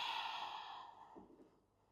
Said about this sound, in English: Nice, slow and steady exhalation.